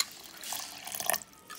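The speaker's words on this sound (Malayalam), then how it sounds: "നമുക്ക് ഏകദേശം ഒരു കപ്പോളം വെള്ളം ഒഴിച്ച് നമുക്കിതൊന്ന് അരച്ചെടുക്കാം" About a cup of water is poured into a wet grinder holding soaked rice and urad dal for Kalathappam batter: a brief splashing pour that swells mid-way and then trickles off, with no talking.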